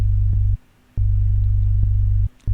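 A low, buzzy default 3xOsc synthesizer tone in FL Studio plays in repeated sustained notes with short gaps between them, steady in pitch and fairly loud.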